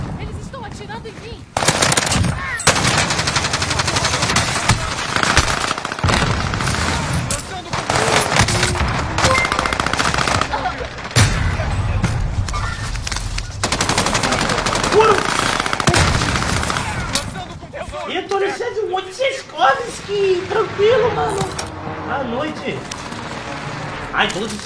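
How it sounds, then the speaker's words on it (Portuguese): Enemy gunfire in a multiplayer shooter video game rattles in dense, loud automatic bursts almost without pause, with scattered single shots and game effects toward the end, under someone talking. "Eles estão atirando em mim."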